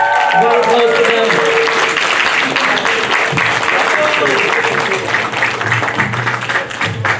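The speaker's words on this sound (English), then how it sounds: "Round of applause for them." An audience gives a sustained round of applause for an MBA project group, a dense steady clatter of many hands that carries through the whole stretch and tapers slightly at the end.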